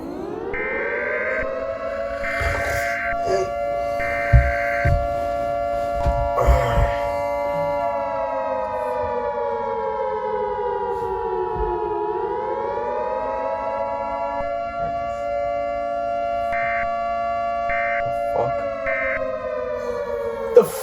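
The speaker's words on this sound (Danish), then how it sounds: "Er det fucking sirenerne?" A civil defense siren wails steadily and loudly throughout, its pitch sagging and then climbing back, while several faint overlapping tones come and go with occasional soft background knocks.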